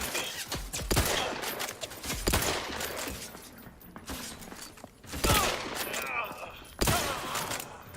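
Bursts of rapid gunfire from the online shooter game TOW 2 crackle in several loud volleys with brief lulls between, joined by clanks and mechanical noises, while a voice talks faintly underneath.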